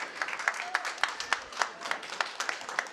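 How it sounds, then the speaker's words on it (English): Steady applause from an audience, many hands clapping in a dense rhythmic patter at moderate distance, with no voices standing out. "one more round of applause to all of the speakers that we've had so far."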